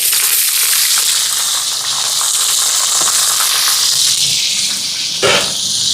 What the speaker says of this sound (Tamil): இங்கே எண்ணெய் சூடாயிட்டு கடுகு சேர்க்குறேன்